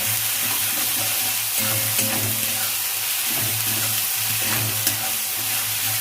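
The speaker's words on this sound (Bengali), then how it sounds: "রসুন বাটা দেব। একটু ভালো করে নেড়ে নেব।" Garlic paste sizzles and fries steadily in a pan for a catla fish head muri ghonto, with a continuous close hiss, low bubbling and intermittent scraping of a spoon stirring through it.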